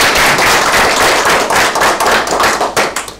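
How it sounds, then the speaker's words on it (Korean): Staff at a post office meeting applaud to welcome visiting lawmakers, a dense, steady burst of many hands clapping close by, loud and continuous without talk. "우리 직원의 박수로 환영해 주시면 좋겠습니다"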